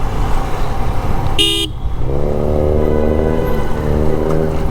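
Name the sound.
car exhaust sound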